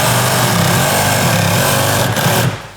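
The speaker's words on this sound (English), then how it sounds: "Take my sawzall, cut the line." A Sawzall reciprocating saw cuts through a wall in a loud, close, buzzing rattle with a fast pulsing stroke, running nearly the whole time before trailing off.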